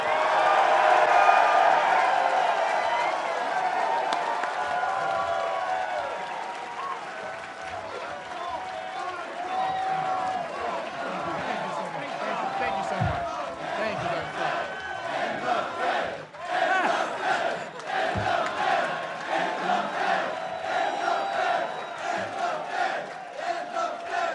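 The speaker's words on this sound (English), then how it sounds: "Ladies and gentlemen, please clap your hands for Dr. Ron Paul" A large political rally crowd cheers, shouts and applauds for Dr. Ron Paul at the LNC 2022 Mises Caucus event, a loud, steady roar with yells and clapping that continues for the whole stretch.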